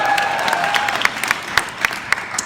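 Audience at a 35th anniversary celebration bursting into applause, with a few cheers at the start, followed by dense, steady clapping and some sharper individual claps standing out.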